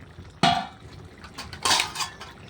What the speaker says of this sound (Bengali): ভাতের হাঁড়িটা বসিয়ে দেবো।